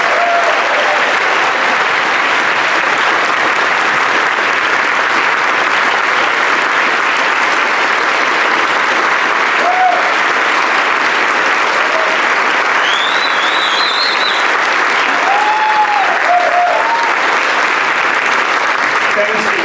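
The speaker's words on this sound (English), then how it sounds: "Let's have a big round of applause for every Metro first responder." Loud, sustained applause from a large crowd at a mayor's State of the City address, steady clapping throughout with a few faint voices rising above it.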